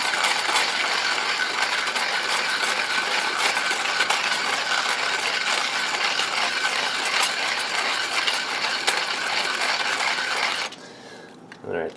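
A Bold Bean Architects manual coffee grinder grinding beans to a fine setting gives a steady, loud ratcheting crunch that runs without pause for about eleven seconds, then stops and leaves a few faint clicks.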